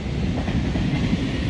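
A train rolls past close by, with a dense, steady rumble and rattle of rail cars that holds at constant loudness throughout, with no voices.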